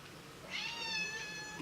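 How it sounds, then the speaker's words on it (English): A house cat gives a single drawn-out meow, clear and fairly close, rising and then tapering off in a quiet indoor room. "That's my kitty, Angela."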